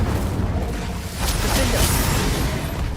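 Incendio fire spell cast in Hogwarts Legacy on PS5: a loud, rumbling burst of fiery whoosh and boom that swells and sustains for a few seconds over dense game noise.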